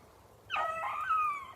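A beagle hound on a rabbit chase in swamp grass gives a single drawn-out baying cry, rising then holding, moderately close with faint background noise and no talk.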